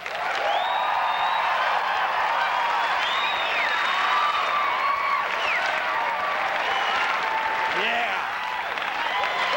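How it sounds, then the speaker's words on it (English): A theater audience in Boulder, Colorado gives a big round of applause and whoops as a sound check, dense sustained clapping with scattered cheers at full volume, and a brief spoken word over it. "let's hear a nice big Colorado round of applause right now"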